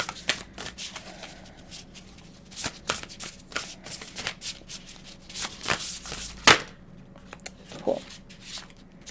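An oracle card deck is shuffled by hand in a run of crisp, rapid riffles and sharp card snaps, close up, with no talking.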